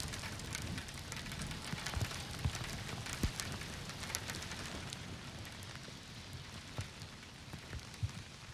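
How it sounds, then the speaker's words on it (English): Rain falling steadily after a hailstorm in Chatsworth, a dense continuous patter on surfaces with occasional louder drips and taps, fairly faint and even throughout, with no talking. "The hail has since subsided. The rain continues"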